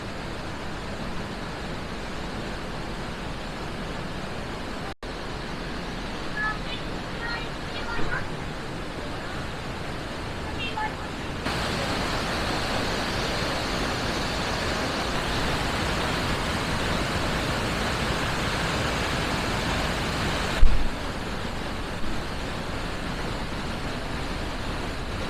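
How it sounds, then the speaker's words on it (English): Loud waterfall at a scenic lookout, a dense steady roar of falling water filling the whole scene, with faint voices briefly audible early on. "There's a lot of water going over that."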